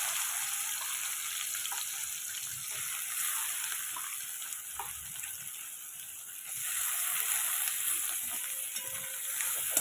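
Chopped small onions and two green chillies fry in hot oil, giving a steady, close hiss of sizzling that swells slightly toward the end, with no talk over it.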